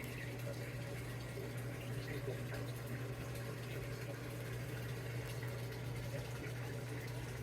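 Samsung washing machine filling with water for a second rinse, the tub level low: a steady, faint rush of inflowing water over a constant low hum, unbroken throughout.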